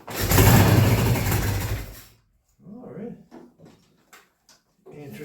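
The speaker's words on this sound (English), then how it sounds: "The timing's retarded to the point that it ought to fire up pretty decent." Pre-unit Triumph motorcycle engine with retarded timing fires up in a loud, rough burst for about two seconds and then dies, followed by brief clanks and quiet talk.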